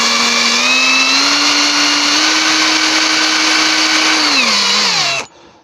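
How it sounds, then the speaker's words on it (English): Power drill boring a hole into a wooden mulberry snowman, a loud close steady whine that holds, dips slightly under load, then winds down and stops. "I'll drill a little hole for his nose."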